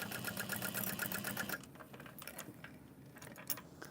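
A sewing machine bastes fabric pieces into place, running in a steady, close rhythmic stitch for about a second and a half before stopping, leaving quieter handling sounds and a faint click.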